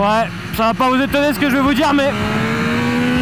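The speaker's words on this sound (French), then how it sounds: "Le 3 cylindres de la Yamaha MT-09 est une gourmandise mécanique comme on en fait peu" A Yamaha MT-09 three-cylinder motorcycle engine revs in quick throttle blips, rising and falling in pitch, then settles into a steady drone, with someone talking over it.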